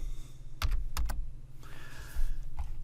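Several quick keystrokes tap on a computer keyboard, close and crisp, in short irregular clusters over a faint hum.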